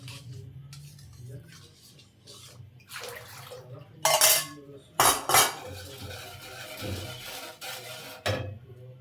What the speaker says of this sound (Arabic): معانا كده مضرب هنقلب بيه، قلب النشا